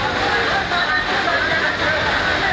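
Fast-flowing floodwater rushing through a street in the Todaraisingh area of Tonk, Rajasthan, after heavy rain, a loud steady roar with a few splashes and faint voices underneath.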